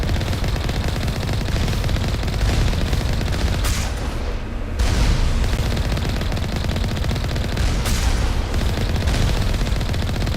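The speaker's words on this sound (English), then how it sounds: "I just blow up our own heavy turrets." Heavy turrets blaze away in the Mass Effect video game, dense rapid gunfire pounding continuously and loudly, with a short lull near the middle before the barrage resumes at full intensity.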